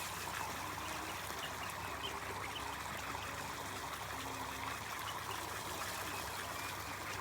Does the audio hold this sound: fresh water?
yes